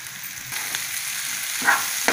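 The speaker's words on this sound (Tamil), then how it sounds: "நல்லா கலந்து விட்டுக்கோங்க." Fried raw plantain with grated coconut and onion is mixed in a pan, a close steady sizzle with a couple of sharper stirring scrapes toward the end.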